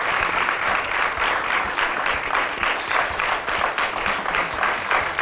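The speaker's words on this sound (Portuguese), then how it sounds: "Um aplauso." Television studio audience applauding on a Portuguese afternoon game show, a dense, steady wash of clapping that holds for several seconds at a moderate level, with no talking over it.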